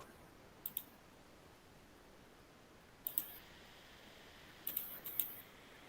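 Computer keyboard clicks while entering input into a Mathematica notebook, a short pair of taps, then two more small bursts of quick clicks, faint and close against quiet background hiss.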